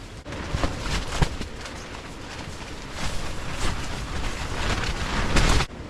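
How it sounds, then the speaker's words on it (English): Strong wind gusting and buffeting against the microphone at a hot tent campsite, a loud continuous roar that swells and fades, with no talking. "Oh, yeah, it's windy."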